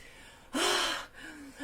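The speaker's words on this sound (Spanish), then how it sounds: "Esta es una respiración de hiperventilación" A person demonstrates hyperventilation breathing with one sharp, loud, rasping gasp in close, followed by a softer breath.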